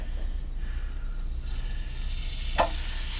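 Hash browns frying in a pan with a steady, soft sizzle that runs throughout, plus a brief louder crackle near the end as they settle or get stirred.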